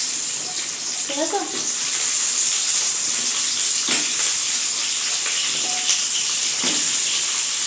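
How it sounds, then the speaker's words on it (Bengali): Potatoes hit a pan of frying chicken for Radhuni chicken, giving a steady, loud, hissing sizzle over medium-high flame throughout, with a few faint clinks and a brief spoken phrase. "এবার আমি এর মধ্যে আলু দিয়ে দিচ্ছি"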